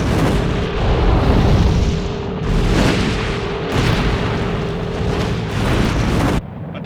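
Huge explosion of a blown gas field as a television sound effect, a sustained, deafening roaring rumble that surges and swells for several seconds before cutting off abruptly into a lower background roar.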